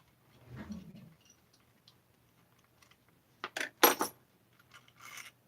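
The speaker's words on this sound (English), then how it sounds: "All the washers come off." Loose metal washers clink against each other as they are pulled off during a 200t assembly, a few sharp close metallic taps clustered together after a quiet stretch.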